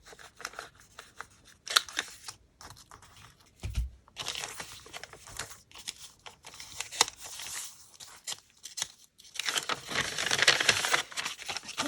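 Scissors snip repeatedly through a paper dress template for a junk journal, a close, dry run of crisp cuts with paper crinkling and rustling in between, no voices.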